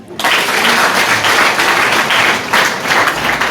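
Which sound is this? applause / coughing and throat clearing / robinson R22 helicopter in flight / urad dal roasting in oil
applause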